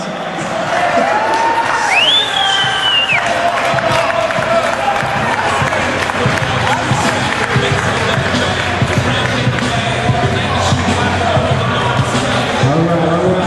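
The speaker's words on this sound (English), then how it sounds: "how about a round of applause for Mr. Marty" Crowd noise with cheering and applause fills an indoor arena at an Army-Navy veterans arena football event, a steady loud roar over the whole stretch, with voices mixed in and a whistle-like tone rising early on.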